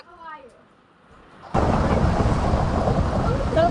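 Quiet at first, then heavy Minecraft video game rain and a rumbling roar of thunder crash in suddenly and continue loudly to the end.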